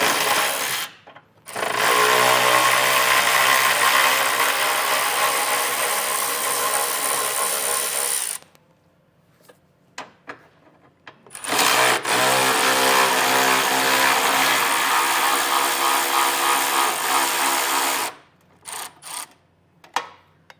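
A power tool whirs loudly and close while removing two 8mm bolts near the bumper support on a 2020 Jeep, running in two long sustained bursts of several seconds each separated by a short pause.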